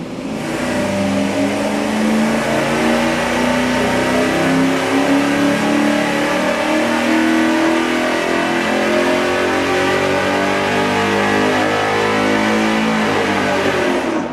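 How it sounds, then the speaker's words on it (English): A V8 engine runs hard on a dyno through a single exhaust with a Y merge and a straight-through muffler, a loud, steady, sustained roar that stays close and constant throughout, with no voices. "We're going to do that single exhaust with the Y merge with the straight through muffler"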